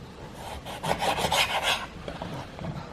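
A knife drawn through thin fish fillets being cut for fried fish, a series of quick rasping strokes close by, loudest in a burst of about a second, then softer scraping, no talk.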